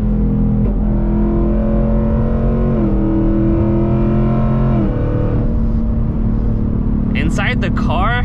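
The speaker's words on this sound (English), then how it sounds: "Inside the car, you still hear the V8, you still hear the headers" A 2024 Ford Mustang GT V8 with headers heard from inside the cabin while driving, a loud steady drone whose pitch rises, drops with a shift, then settles, with a brief burst of higher sounds near the end.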